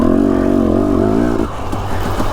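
A dirt bike engine on a forest trail in Pine, Idaho, droning loud and close with a wavering, slightly rising pitch that drops off after a second or so into a rougher, lower idle.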